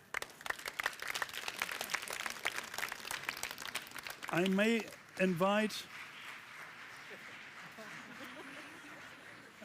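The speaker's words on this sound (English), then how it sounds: "you get a double clap" Audience clapping at a conference session of the Ukraine Recovery Conference 2024 rattles along for about four seconds at moderate distance, then a speaker's voice takes over.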